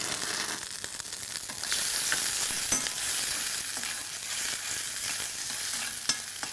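Garlic and onion fry in a hot pan with a continuous close sizzle and occasional small clicks and taps of stirring, and no one speaks.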